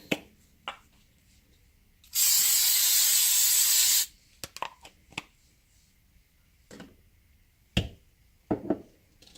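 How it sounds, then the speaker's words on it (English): A steady two-second hiss of an aerosol cooking oil spray onto Cornish hens, close and loud, surrounded by quiet and a few small clicks and taps. "I then spray my chicken one more time."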